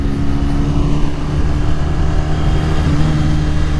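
A Honda VFR1200F motorcycle engine runs at a steady, loud drone with a strong low hum and no change in pace, heard close throughout without speech.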